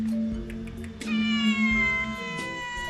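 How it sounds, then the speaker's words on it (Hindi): A black cat meows several times up close, drawn-out wavering cries with a short pause between them, clear and alone with no talking. "दिन भर ही म्याऊं म्याऊं करती रहती है।"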